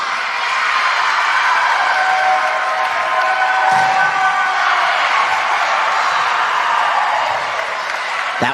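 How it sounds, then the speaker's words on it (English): At an acrobatics and tumbling meet in a gym, a crowd sends up a sustained wash of cheering and applause that holds steady throughout and eases slightly toward the end. "That one drew quite the reaction from the crowd."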